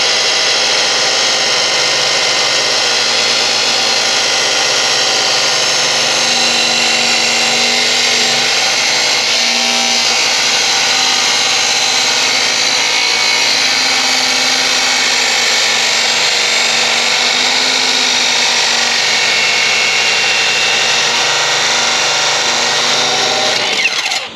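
Continuous loud grinding rasp from a power tool cutting through the exhaust mid pipe on a GTO during a 3-inch exhaust build, holding steady for over twenty seconds with no breaks.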